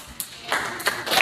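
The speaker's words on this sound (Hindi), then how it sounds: "ताली बजा दो इसके लिए" Students in a Class 8 maths classroom give a brief, scattered round of hand clapping, a few claps rising and falling over about a second, fairly soft and uneven.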